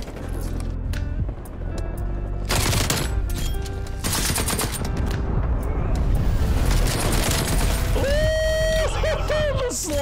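Rapid nail gun fire in Call of Duty Cold War rattles through a busy match in loud repeated bursts, mixed with other gunshots and shattering impacts, then ends in a few tonal electronic game chimes.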